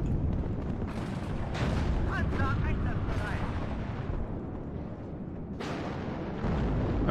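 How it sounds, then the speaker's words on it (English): Artillery barrage rains down in the WARNO war game, with repeated distant booms and rumbling blasts layered over continuous battle noise and occasional higher whistling tones. "And more artillery is now coming in."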